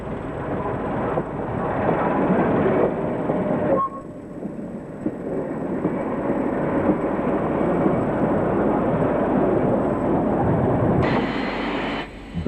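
A railway track machine runs along the rails on a British line, a steady rumbling mechanical drone with a brief dip in level partway through, heard from nearby without voices.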